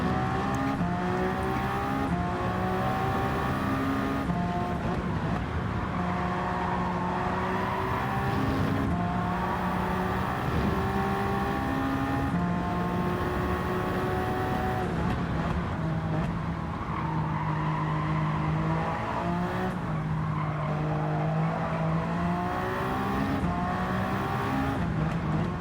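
Race car driven hard at qualifying pace around Spa in Gran Turismo 7, a sustained loud engine drone with shifting pitch as it revs, downshifts under braking and pulls through corners, with tire squeal throughout and no talk.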